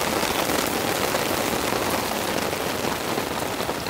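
Steady rain pours onto a campsite, hissing over a tent and a big bed of glowing campfire embers in a heavy rainstorm, a dense continuous wash with no voices.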